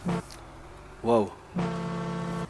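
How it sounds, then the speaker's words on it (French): A used truck's horn sounds in Farming Simulator 15, a short harmonic blast followed by a longer steady honk of about a second. "Il fait peur le klaxon!"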